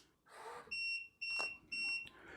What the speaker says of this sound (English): then it beeped 3 times. That means your upper limit has been set.